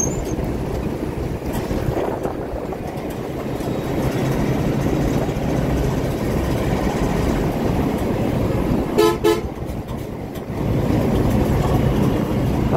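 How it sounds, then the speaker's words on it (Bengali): Night driving on the unlit Dhaka–Aricha highway in Bangladesh: a steady broadband road and wind roar runs throughout, with a brief tonal horn toot near the middle and a short dip in the noise just after. "আমি ঢাকা আরিচা হাইওয়েতে আছি"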